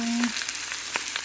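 Chicken gizzards for adobo frying in a pan, a brief burst of close, steady sizzling hiss with faint pops.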